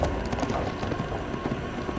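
Galloping horse hooves in the For Honor video game, a rapid clip-clop rhythm of repeated thuds, close and moderately loud, over brief game noise.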